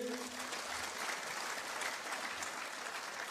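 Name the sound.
applause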